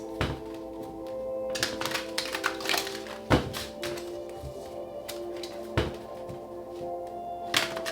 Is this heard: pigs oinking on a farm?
no